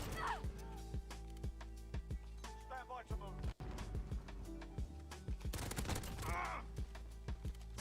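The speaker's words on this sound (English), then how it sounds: "This pistol with 3-round burst is so busted." Rapid three-round bursts from a pistol in a Roblox game, sharp clustered shots repeating in quick groups at moderate loudness, with a voice talking in between.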